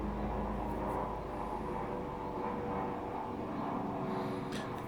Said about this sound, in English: No, I think it sounds more like a plane.